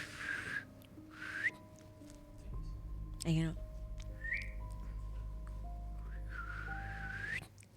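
Someone tries to whistle and produces a few thin, wavering, breathy whistle tones in short bursts near the start and a longer wobbling one near the end, with a person talking in between.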